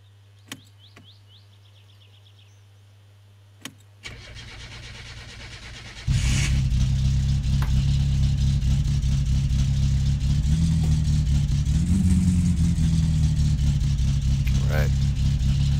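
In My Summer Car, a car engine with the choke pulled cranks, then catches and settles into a loud, steady running roar with a brief rev, after earlier clicks and faint chirps in a quiet background.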